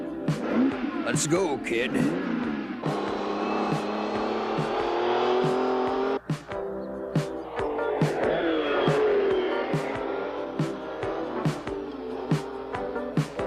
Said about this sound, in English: racing to meet his fate in a brand new Ferrari Berlinetta